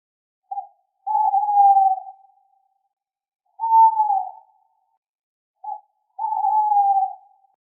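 Several long, mellow hoots at a steady pitch, separated by silences, each preceded by a short note, clear and close with no other sounds.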